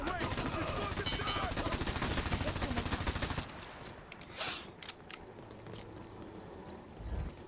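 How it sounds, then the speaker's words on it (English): Rapid, continuous turret gunfire from the Dirty Bomb shooter game hammers loudly for about three seconds, then cuts off, leaving quieter scattered battle sounds. "That turret is doing a lot of damage."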